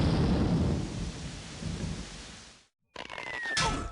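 In the You Don't Know Jack trivia game, a rumbling thunderclap plays over heavy rain, then cuts to a brief silence before a rain and storm swell with a sharp crack returns.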